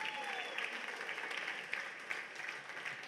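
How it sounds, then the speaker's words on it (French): Applause from a pageant audience for a dance group at a Miss New Caledonia event, heard as a faint, steady roar of clapping and cheering throughout, with a voice briefly audible at the start. "applaudissements pour Showtime."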